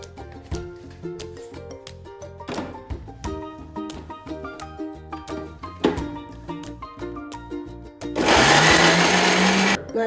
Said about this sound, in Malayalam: പച്ചച്ചക്കര ചുളയൊന്ന് അരച്ചെടുക്കാം.